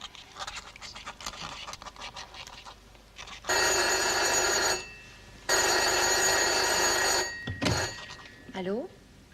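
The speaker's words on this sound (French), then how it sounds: "Et pour la vraisemblance, je laissais un peu sonner le téléphone." Telephone ringing on a theatre stage during a French comedy play, two long loud electric rings separated by a pause, with actors speaking before and after.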